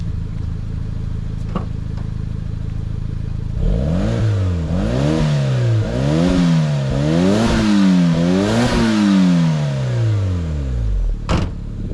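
Turbo engine of a 1998 Daihatsu Opti Aerodown Beex, recorded outside, idles steadily before being revved repeatedly in a rhythmic series of sharp climbs and drops, loud and close, ending with a brief click.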